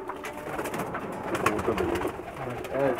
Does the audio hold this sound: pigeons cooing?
yes